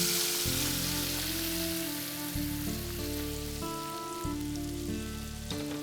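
Cooked Gujarati dal poured into a sizzling Jain-style tadka tempering in a pan, giving a loud, steady crackling sizzle that runs the full length, with tonal music audible underneath.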